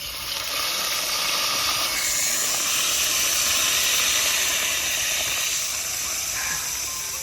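Garlic sizzling in hot oil during a Gujarati tempering with mustard seeds, cumin and spices already in the pan, a steady loud hiss that holds throughout with faint clatter.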